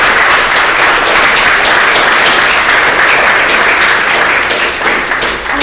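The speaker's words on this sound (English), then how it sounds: "Can we have another round of applause for them?" Audience applause at a computational medicine meetup, a loud, even, continuous roar of many people clapping that holds steady throughout without talk.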